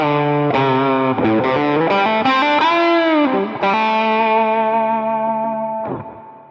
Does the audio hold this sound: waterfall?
no